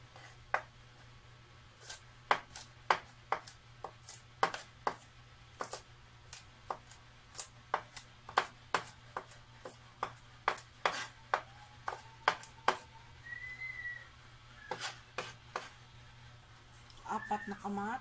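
Three cloves of garlic are chopped on a board for ginisang talong, a quiet kitchen sequence of sharp knife taps in irregular bursts, with a brief voice in the background near the middle.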